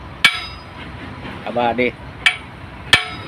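Three sharp metallic hammer blows ring out, spaced irregularly, as cylinder packing is knocked out of a 371 truck engine, with a brief spoken word between the strikes.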